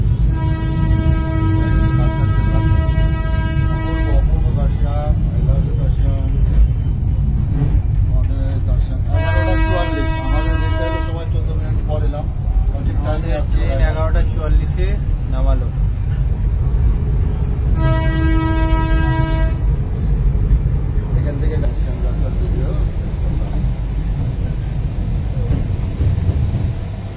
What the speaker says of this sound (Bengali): টয় ট্রেনটা বেরিয়ে যাবে এনজিপির উদ্দেশ্যে।